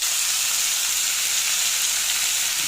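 Dense, constant sizzle and hiss of meat and spices frying in a hot pan for halim, close and loud throughout.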